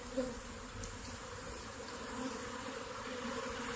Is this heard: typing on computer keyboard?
no